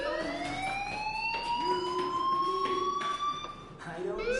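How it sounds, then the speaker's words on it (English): Fire alarm ringing in the video game Life is Strange, a continuous, wavering electronic siren-like tone that rises and falls over several seconds, fairly loud with some background noise. "do you hear that fire alarm? That means you should be outside."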